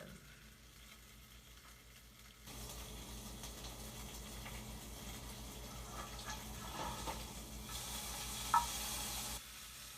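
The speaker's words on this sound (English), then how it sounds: "Give that bacon a flip as we're taking a trip to Flavortown." Bacon fries in a pan, a steady soft sizzle and crackle that starts abruptly after a quiet opening and continues evenly, with a brief brighter hiss and a small clink near the end.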